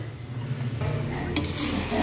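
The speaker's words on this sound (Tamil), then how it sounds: "இப்போது நம்ம கட் பண்ணி வச்சுருக்கிற முட்டையை இதில் போட்டு" Chopped boiled eggs tumble into an egg masala in a pan and get stirred, a steady sizzle under soft scraping that grows a little busier toward the end, with no voices.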